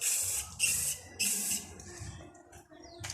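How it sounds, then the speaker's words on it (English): Anti-rust spray hissing onto the bodywork of a 1969 VW bus during restoration, several short close bursts separated by gaps, with quiet handling noises between them. "So I don't want it to catch rust. Like here I want to just spray it like that"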